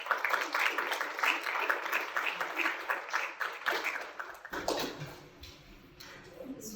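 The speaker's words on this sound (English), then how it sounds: "I think you should all give yourselves a round of applause" A small audience at a real estate case competition claps for several seconds, a moderate patter of hands that breaks off midway into quieter room noise and a few stray sounds.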